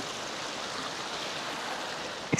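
Steady broadband rush of the Saluysoy river flowing near Bancod Bridge in Indang, Cavite, an even continuous water wash close by, with a brief knock at the very end.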